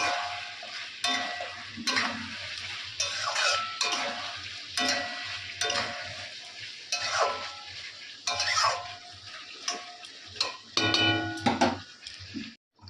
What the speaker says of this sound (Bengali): আলুগুলো দিয়ে দিই প্রায় কষা হয়ে গেছে আরও একটু কষতে হবে